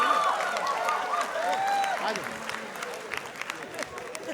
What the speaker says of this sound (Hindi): तालियां for परीक्षित जी and युवराज भाई।